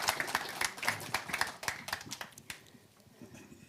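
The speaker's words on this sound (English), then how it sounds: "Ladies and gentlemen, a round of applause for Ayoub Gamas." Scattered clapping from a conference audience at a Huawei Digital Talent Summit, sharp individual claps fairly close, tapering off after a few seconds.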